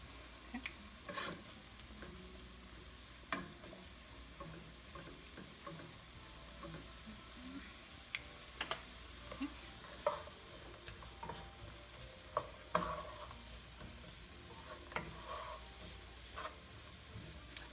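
Onions and vegetables frying in two pans, with a soft continuous sizzle and scattered scraping clicks and taps as they are stirred, fairly quiet and without talk.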